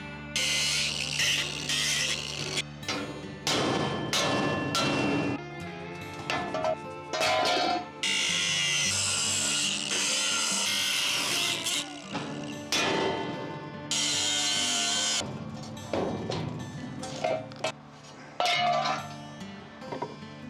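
Power tools at work on a wooden sauna wood-storage rack as its legs are removed, with loud bursts of whirring and rattling, clanking metal, and short pauses between runs, close and continuous for about twenty seconds.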